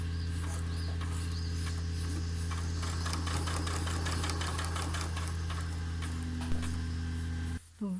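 A sewing machine steadily stitches fabric while topstitching a homemade menstrual underwear garment, a continuous close motor hum with a fast mechanical needle rhythm that stops abruptly near the end.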